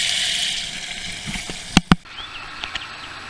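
Water pours steadily from a pond pressure filter return, a tower shower splashing down into the pond, with a continuous rushing spatter and a couple of sharp knocks partway through.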